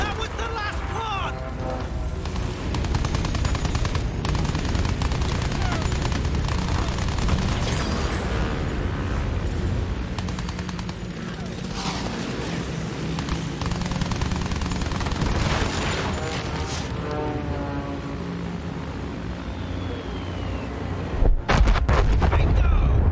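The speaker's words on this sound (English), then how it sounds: "Bingo! Bombs on target! Hit them hard, but the fortress is still standing." Bombs pound a fortress in Battlefield 1, with heavy booming blasts and rattling gunfire over a dense battlefield roar, voices talking throughout, and a sharp final burst near the end.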